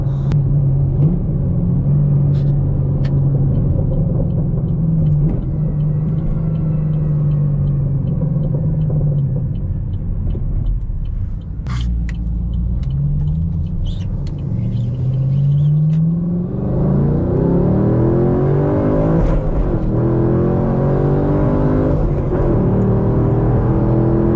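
A car engine rumbles close, then winds up hard as it accelerates, the pitch climbing through gears in a long, loud pull.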